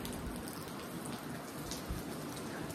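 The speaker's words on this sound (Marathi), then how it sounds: "तर अजून का पाऊस चालू आहे चांगलाच." Steady heavy rain falls during the monsoon, a dense, continuous hiss of drops striking surfaces close by. It stays even and unbroken throughout, with no voices.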